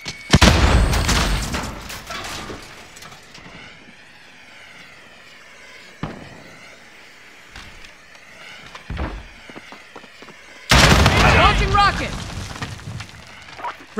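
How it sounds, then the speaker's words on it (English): Frag grenade explosions and gunfire in a Call of Duty: Modern Warfare (2019) team deathmatch: a heavy blast opens, quieter rumbling follows with a few sharp hits, then a second loud explosive burst near the end. "Grenade out! Frag out!"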